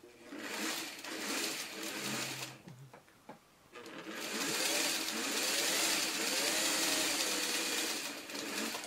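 A sewing machine with a quarter-inch foot sews Y seams on a honeycomb quilt block, running in a steady mechanical whir, pausing briefly, then starting up again and carrying on continuously up close.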